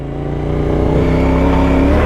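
Traffic on a road, a continuous loud engine rumble with a rising revving tone as cars drive past close by, steady throughout with no talk.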